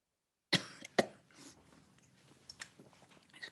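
Two sharp, close coughs from an older woman at an indoor evening talk, followed by softer throat noises and faint shuffling in a quiet room.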